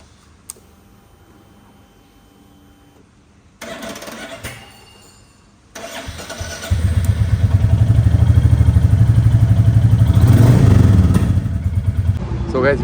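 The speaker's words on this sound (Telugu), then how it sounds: "ఇక లేట్ చేయకుండా మనం అయితే స్టార్ట్ చేస్తున్నాం బండిని." Motorcycle engine starting up after a click and a few brief cranking bursts, then settling into a loud, steady, throbbing idle close by, with someone talking over parts of it.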